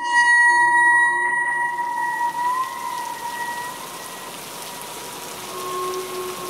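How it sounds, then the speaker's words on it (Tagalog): Steady, dense rain pours down as an even wash of noise, with a few faint tonal hums fading out early on. "bumuhos ang malakas na ulan."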